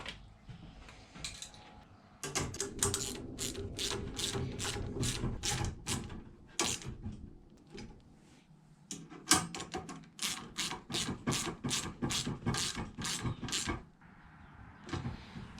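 Ratchet with an 11mm socket tightening a bolt on a Kubota BX tractor cab door frame, a rapid run of sharp clicking strokes in bursts with brief pauses, close and clear, no talking.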